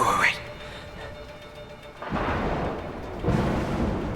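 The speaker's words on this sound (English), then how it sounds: "Let's time it with the thunder." Thunder from a storm in the video game A Way Out rumbles in two deep, swelling bursts, loud and fairly close, with a brief voice heard at the start.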